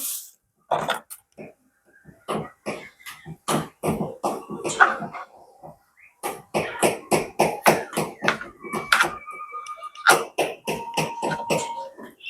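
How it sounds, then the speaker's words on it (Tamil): Knife chopping papaya into small pieces for juice, a run of sharp close taps on a cutting board in irregular rhythm with brief pauses, no talk. "இப்படி இப்படி சின்ன சைஸாக கட் பண்ணி எடுத்தீங்கன்னு சொன்னால் தான் மிக்சி கப்பில் போட்டு அடிக்கக்குள்ளே"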